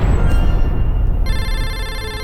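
A cartoon telephone rings with a bright, repeating electronic tone, loud and close, over a low background hum.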